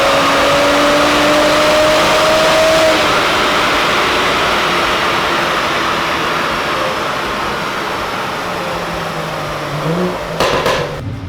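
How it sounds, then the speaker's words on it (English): A car engine revving hard on a dyno, a loud sustained roar that rises, holds and gradually fades, ending with a few sharp clanks near the close. "we're spinning on the dyno"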